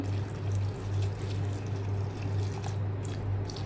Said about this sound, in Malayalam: ഇതിലേക്ക് കുറച്ച് വെള്ളം കൂടെ നമുക്ക് ഒഴിച്ചു കൊടുക്കാം.